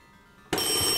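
An alarm clock in a video game abruptly starts ringing halfway through, a loud, steady, bright electronic ring that continues to the end after near silence.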